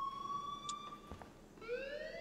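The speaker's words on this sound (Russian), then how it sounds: "Типа, эй, ты включила сирену." A police car siren in the video game Life Is Strange, a faint wailing tone that sweeps steadily and then shifts pitch near the end, heard quietly and alone.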